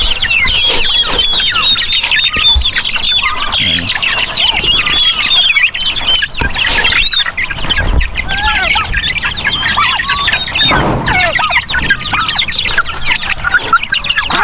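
Chickens and turkeys cluck and call continuously at a farm as chicks are slowly released onto the ground, a dense, busy flock chorus with overlapping calls close by and no talking.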